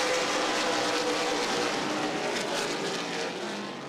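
Race cars roaring together in a steady, dense wash of engine noise at Anderson Speedway during an ARCA/CRA Super Series race, loud and continuous, fading slightly toward the end.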